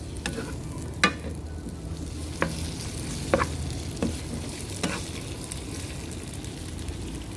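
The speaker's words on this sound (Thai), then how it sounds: "แล้วก็ผัดนะคะ" Cucumber stir-fries in a hot pan under a constant close sizzle, with a few sharp spatula knocks and scrapes at irregular intervals and no talk.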